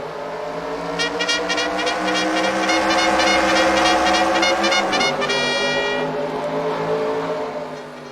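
A field of race cars roars around the Motordrome Speedway oval at the start of a Bullring Racing Series round, a loud, sustained engine blare with shifting, layered pitches that fades slightly toward the end.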